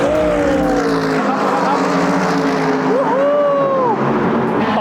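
A race car sweeps past on the Spa Francorchamps circuit, its engine note rising and falling in loud whining passes over a continuous rumble.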